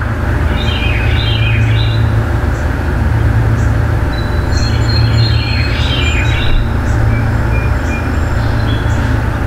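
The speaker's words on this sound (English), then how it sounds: "Can you hear the birds?" Birds chirp outdoors in scattered bursts of high twittering, moderately close, over a loud continuous low rumble of wind or distant traffic on a countryside hillside where sheep graze.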